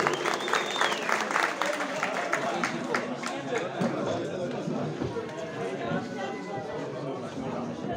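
A crowd at an association gathering in Yayladağ welcomes a speaker with continuous, fairly loud applause. Chatter and voices mix in throughout and a brief whistle-like tone rises early on.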